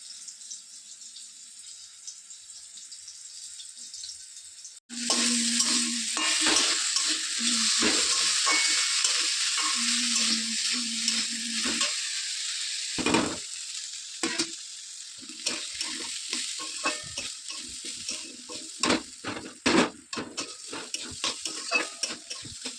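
Food frying and being stirred in a pan in a village kitchen, a bright steady sizzle that bursts in suddenly after a quiet start, with repeated scraping and clinking strokes of a utensil and a brief splash of water, no voices.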